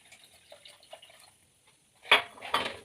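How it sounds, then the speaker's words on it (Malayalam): A spoon clanks and scrapes against a pot while fish curry is stirred, two sharp metallic bursts near the end after quiet, faint kitchen sounds. "എന്നിട്ട് ഒന്ന് ഇളക്കി കൊടുക്കാം."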